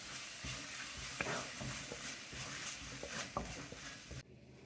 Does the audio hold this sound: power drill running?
no